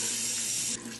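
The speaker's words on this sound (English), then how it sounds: "So I like to wring out as much water." Water runs and splashes as a washcloth is wrung out over a sink, a short close wet gush that drops off abruptly near the end.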